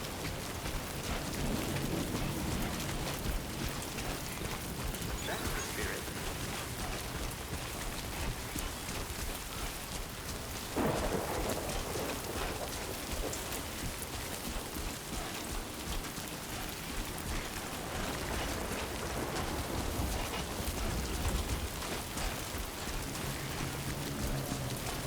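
Steady rain pours throughout a stormy, darkening scene in the video game Death Stranding 2, a dense unbroken hiss with a brief low rumble near the middle, no voices.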